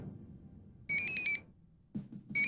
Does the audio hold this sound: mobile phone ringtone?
yes